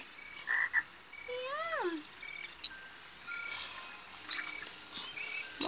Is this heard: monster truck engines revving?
no